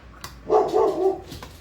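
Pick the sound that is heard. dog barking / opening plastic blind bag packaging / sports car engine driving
dog barking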